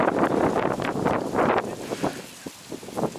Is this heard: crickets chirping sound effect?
no